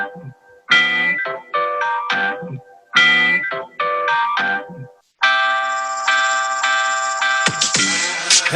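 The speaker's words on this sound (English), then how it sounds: "That's a cool Rhodes, even coming through your phone." A Rhodes electric piano played through a phone, bell-like chord stabs in short rhythmic groups followed by a longer sustained chord and a final cluster, slightly thin and boxy, with no talk.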